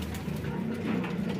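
Pigeons coo steadily at close range in a loft of squabs, a continuous low rolling warble with no talk over it.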